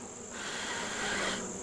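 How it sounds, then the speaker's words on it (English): Honeybees crowd hive frames during a late-October colony inspection, a dense steady buzzing hum close by that swells slightly midway, with no voices. "A lot of good looking healthy bees here."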